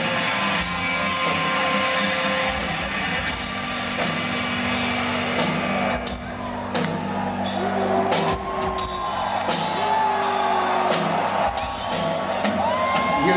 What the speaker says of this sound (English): Crowd singing along.